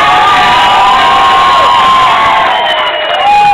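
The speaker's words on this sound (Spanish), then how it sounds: "Y aplausos último por la teniente Rada" Crowd at a Halloween costume contest in Duitama, Boyacá, erupting into loud cheering with high children's shouts and some clapping, a continuous roar that stays strong throughout.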